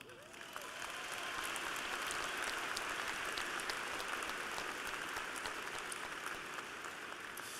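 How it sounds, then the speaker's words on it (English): Graduates at a commencement ceremony applaud themselves in a broad, steady roar of clapping that swells in within the first second and stays even throughout, sounding like a large crowd heard from a distance. "please give yourselves a round of applause"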